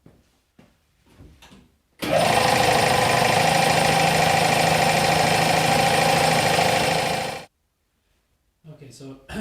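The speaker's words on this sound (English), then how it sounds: "so so let the compressor run a little bit" A reassembled air compressor starts abruptly and runs loud and steady with a rapid mechanical chug for about five seconds, then cuts off; brief speech and handling sounds come before and after.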